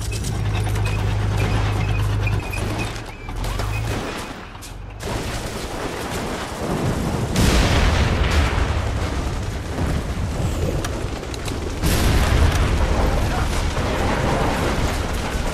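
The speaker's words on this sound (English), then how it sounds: "Sounds like a fucking tank." Tank cannon fire and explosions from The Saboteur, loud booms and heavy crackling bursts with a rumbling low end, over a continuous noisy battle backdrop.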